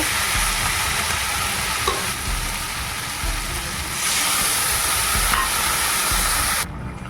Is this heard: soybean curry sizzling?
yes